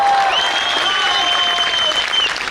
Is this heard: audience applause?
yes